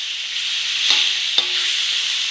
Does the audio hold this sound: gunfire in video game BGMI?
no